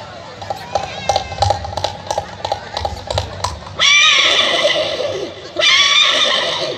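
A person mimics a single horse's hoofbeats with quick rhythmic clip-clop clicks, followed by two long, loud whinny-like cries.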